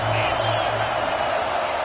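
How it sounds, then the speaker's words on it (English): Football stadium crowd in Texas roaring at fever pitch during a defensive stand, a dense, loud, sustained wash of cheering and shouting that fills the whole stretch without a break. "this crowd is at fever pitch"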